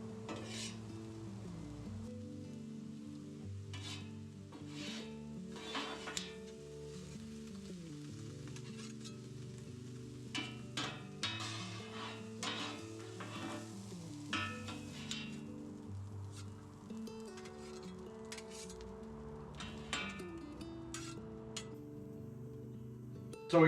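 Lean ground beef cooked with salsa sizzles steadily on a griddle while a spatula scrapes and taps through it, with close, irregular metallic clinks over the continuous frying hiss.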